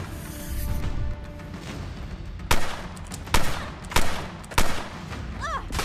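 Gunfire in a video game: four sharp, loud shots spaced about a second apart stand out over a busy background of game sound, with a short rising electronic chirp near the end.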